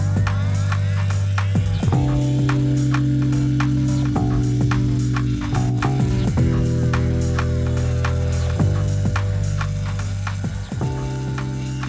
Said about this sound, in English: I'm using a bandsaw, but if you don't have a bandsaw, you can use a jigsaw.